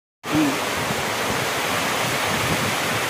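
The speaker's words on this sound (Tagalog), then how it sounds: "Lakas ng ulan." A dense, steady roar of heavy typhoon rain starts abruptly and continues unbroken at a loud, even level, with no voices.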